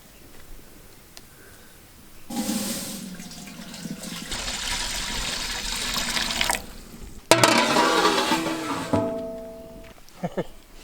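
Water runs and pours in a kitchen while chicken with broccoli is being cooked, a steady rushing stream of a few seconds, then a second louder splashing pour, with no talking.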